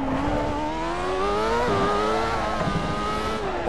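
A Formula 1 car in Assetto Corsa at the Nürburgring GP circuit, its high engine note droning loud and close under acceleration, pitch climbing and dipping with gear changes and throttle.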